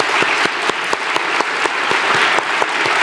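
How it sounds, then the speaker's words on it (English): A conference audience at a Canadian humanitarian gathering claps for volunteers, a loud sustained round of applause filling the space with no voices on top. "I'd like to just maybe give them a round of applause"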